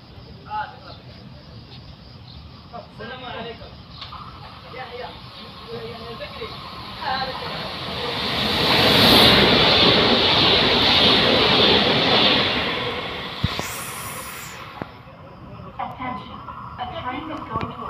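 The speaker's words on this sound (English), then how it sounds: "A train is going to approach without stopping." Train passing through a station at El Casar without stopping, rising from a distant rumble to a loud rushing roar with hiss and rattle, then fading; platform announcements are heard before and after.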